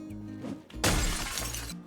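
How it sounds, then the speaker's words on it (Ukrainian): Car window of a battered BMW smashed in the Project Zomboid game, a single loud close shatter of glass with a brief crunching tail and a low rumble underneath. "Давай розбивай вікно."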